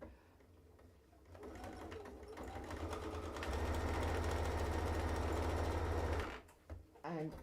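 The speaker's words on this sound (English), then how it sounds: "So I'm just going to do a top stitch now" A domestic sewing machine runs a line of top stitching through fabric, starting slowly, then holding a fast, steady mechanical whir for a few seconds before stopping, followed by brief handling noises.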